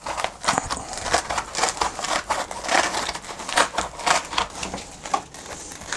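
Foam being peeled and torn out of a Milwaukee Packout organiser insert, a close series of irregular crackling, ripping and creaking bursts that repeat unevenly throughout.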